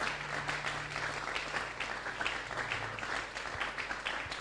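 A church congregation applauding in praise during an evening service, a continuous patter of many hands clapping at moderate distance, fairly soft, with a low hum underneath.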